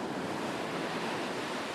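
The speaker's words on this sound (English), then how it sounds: "The waves crashed against the shore, carrying with them a sense of closure" Ocean waves break against a seaside shore as a steady, broad wash of surf with wind noise over it, continuous and moderately loud, with no voices.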